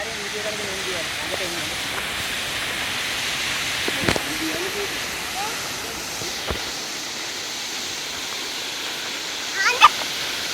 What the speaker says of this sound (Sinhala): හරිම සුන්දරව කඩා හැලෙන දියැලක්.